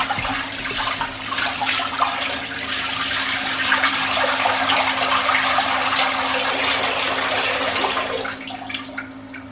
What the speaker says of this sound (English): and then I'm gonna rinse this off